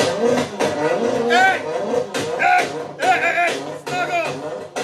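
A man imitates a car engine revving weakly with his voice, sputtering vocal vroom bursts with rising and falling pitch, loud and close, sounding like a car that won't go anywhere.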